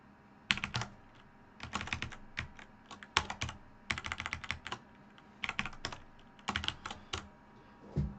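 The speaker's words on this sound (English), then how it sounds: "I know all you're hearing is the clicks." Rapid computer-keyboard clicking in bursts during a live market update, close and fairly loud, with short pauses between flurries of keystrokes and no talking.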